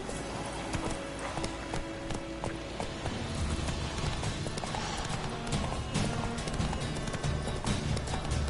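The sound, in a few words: horse galloping in video game The Witcher 3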